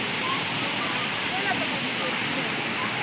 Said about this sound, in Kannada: ಎಲ್ಲ ನೋಡಿ, ಇಷ್ಟು ಹೈಟಿಂದ ನೀರು ಬೀಳ್ತಾ ಇದೆ